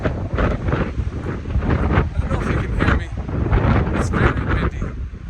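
Strong wind buffets the microphone in heavy, gusting rumbles on a mountain hiking trail, with brief hissing bursts rising and falling throughout.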